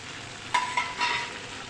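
Curry leaves hit hot oil while an aloo baingan curry is being made, setting off a steady close sizzle with a few sharp crackling spurts.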